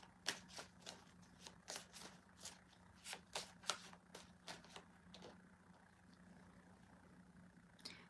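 Tarot cards are shuffled by hand in a quiet room, a rapid run of soft riffling snaps and slaps in close succession that thins out and trails off, with no speech.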